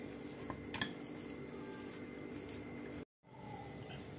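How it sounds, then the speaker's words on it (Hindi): Leftover chapati mixture with green chili and coriander powder mashed in a metal bowl: steady soft squishing and scraping, with a couple of sharp utensil clinks near the start and a brief gap near the end. "अब इसको हम अच्छी तरह से मैश कर देंगे।"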